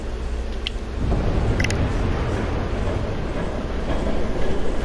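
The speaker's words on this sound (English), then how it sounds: "There's a train coming." A passing train gives a loud, continuous rumble and rattle of rolling cars close by, with faint metallic clicks on top and no talking.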